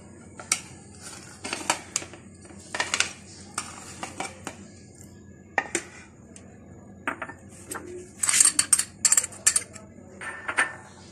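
Fish-finger ingredients mixed in a large bowl: intermittent clinks and scrapes of a utensil against the bowl, irregular and close, with quiet gaps between.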